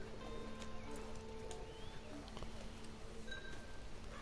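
Soft, steady clip-clop of horse hooves beneath Red Dead Redemption 2 online's ambient background, with faint bird calls and a few brief chirps scattered throughout.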